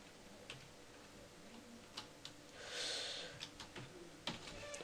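Light, quick keystrokes on a computer keyboard tick in an irregular run, close but soft, over a steady low hiss of room noise with no voices.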